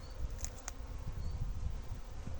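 Honeybees hum steadily around a hive frame outdoors during a queen check, a low continuous buzz close by with faint breeze, no one speaking.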